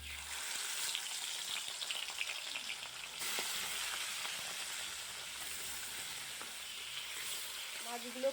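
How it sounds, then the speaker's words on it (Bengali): Hilsa fish pieces frying in hot mustard oil in a kadai, a steady close sizzle and hiss with faint stirring, no talking. "এবার মাছগুলোকে ভেজে নেব।"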